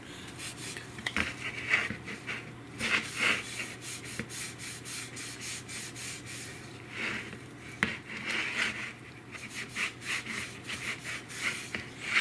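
A thin coat of finish being wiped by hand onto the edges of an upcycled wooden piece, with repeated soft rubbing strokes in uneven bursts, close and without talk.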